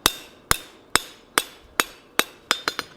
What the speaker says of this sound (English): by hammering the corners off